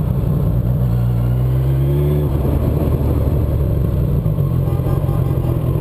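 A Suzuki Bandit 1200S motorcycle engine droning loudly during a downshift, its pitch briefly sliding as the revs change, with heavy wind rumble throughout.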